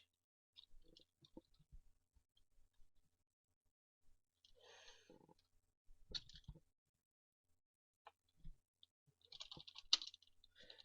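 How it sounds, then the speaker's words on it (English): Typing on a computer keyboard while searching for a Windows XP installer download, sparse faint clicks and short keystroke runs separated by pauses, with a denser flurry near the end. "Then I will type in Windows installer download for Windows XP"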